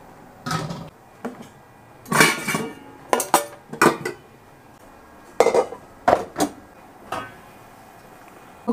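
A pot being washed in a home kitchen, with irregular bursts of metallic clanks, knocks and scraping against the sink, separated by short quiet gaps.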